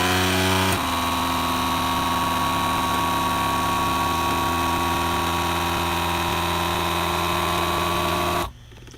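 A FoodSaver vacuum sealer pumps air from a bag holding chopped onion, a loud, steady mechanical whine and hum running for several seconds before cutting off abruptly.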